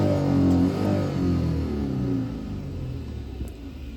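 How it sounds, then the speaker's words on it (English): A 2003 Hyundai Grandeur XG automatic running on LPG accelerates, its engine revving up smoothly from a low rumble, loud and close at first and easing slightly as the pull steadies. "Okay, let's try to accelerate and see the RPMs movement."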